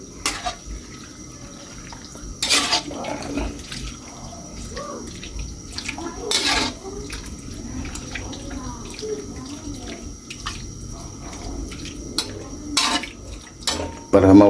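Squid is stirred in a pot for squid curry, with scattered clinks and scrapes of a utensil against metal and a watery bubbling background while a person speaks.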